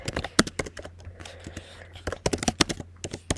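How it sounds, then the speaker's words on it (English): Clacking keystrokes on a computer keyboard, an irregular run of sharp clicks in quick bursts with brief pauses, fairly close and moderately loud, with no talking. "I know the typing is loud"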